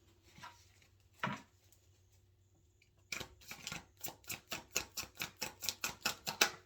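Soft handling noises give way to a rapid series of crisp flicks as tarot cards are riffled and shuffled nearby, growing steadily faster and louder.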